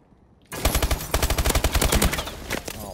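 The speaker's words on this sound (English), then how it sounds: "Oh wow, all these bullets." Call of Duty Advanced Warfare gunfire starts abruptly after half a second of near silence, then continues as a close, loud burst of rapid automatic shots in a steady fast rhythm that lasts to the end.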